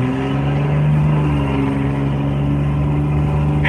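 Steady idle of a Dodge 3500 pickup's Cummins diesel engine: a deep, even rumble with a strong low harmonic, held close and loud throughout with no voices, ending on a small bump.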